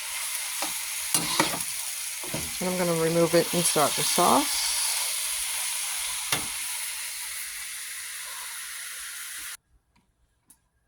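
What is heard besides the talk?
stir frying vegetables in a pan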